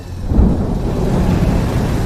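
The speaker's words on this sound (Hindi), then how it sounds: "बारिश शुरू हो चुकी थी और विजय अपनी बाइक तेज रफ्तार से भगाया जा रहा था" Heavy rain with a low thunder rumble in an animated village horror story, a dense steady roar with a deeper swell near the start.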